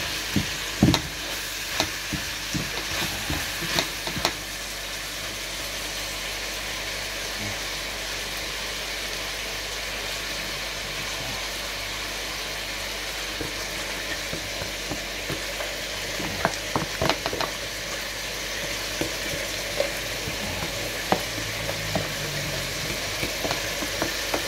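Seasonings fry in a pan for Jamaican brown stew fish, a steady close sizzle and crackle with occasional clicks and stirring scrapes, no talk over it.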